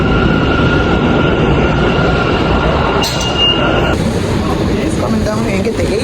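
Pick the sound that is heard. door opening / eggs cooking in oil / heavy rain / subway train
subway train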